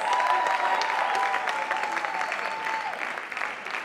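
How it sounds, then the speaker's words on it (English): Crowd applause and cheering for a celebrity at a women's awards event in Mumbai, a dense roaring clap-and-holler wash with a faint tonal whistle riding through, fading slightly toward the end. "a parting round of applause for our wow celebrity of the year, Mumbai"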